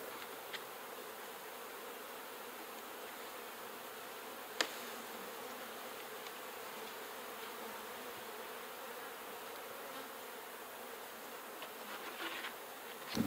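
Honeybees buzz steadily around a horizontal beehive after a winter cold snap, a constant near swarm drone with one sharp click partway through and a few brief knocks near the end.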